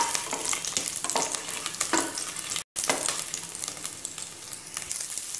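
Cut garlic sizzles while being sautéed and stirred in a pressure cooker for chicken biryani, a dense frying crackle with scraping strokes and one brief cut to silence midway.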